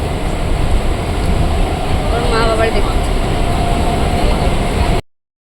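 An overnight passenger train bound for Puri rolls along with a loud, steady rumble inside the carriage, a faint whistle rising briefly midway, before cutting to silence.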